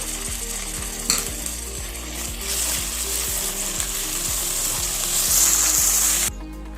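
Kohlrabi and carrot fry in a pan for pasta masala, a close, steady sizzle with rhythmic scraping and stirring that grows slightly louder before ending abruptly.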